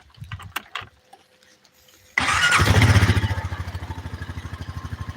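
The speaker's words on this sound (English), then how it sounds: "All right, we're going for a quad ride." A quad bike engine cranks and catches abruptly after a couple of seconds of quiet mechanical clicking, then settles into a loud, close, steadily throbbing idle with a regular pulsing beat. No one speaks.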